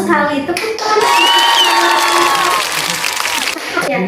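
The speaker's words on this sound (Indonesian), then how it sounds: "Tepuk tangan." A classroom of schoolchildren claps their hands for a few seconds, loud and close, with children's voices and brief talk at the start and end.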